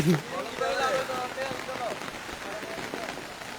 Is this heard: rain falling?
yes